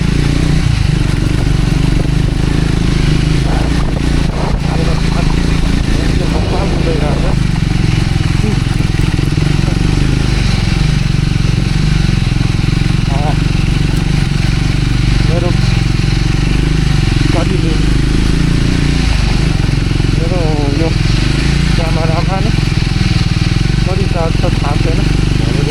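An off-road motorcycle on a rough road toward Jamacho Gumba at Nagarjun drones loudly and continuously with a low engine rumble and some clatter, while a person talks over it.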